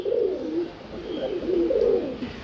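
Pigeons at a breeding farm coo in soft, repeated rolling phrases, close and fairly loud, with no talking over them.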